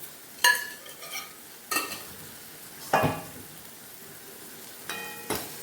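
A spoon scrapes and stirs through tomatoes cooking in a pan for sev tameta shaak, in a few separate bursts with quiet simmering between them.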